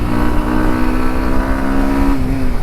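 A 2024 Bajaj Pulsar NS160 motorcycle riding on a road, its engine droning loudly and steadily with a slight pitch dip near the end, thick wind rush throughout and no speech.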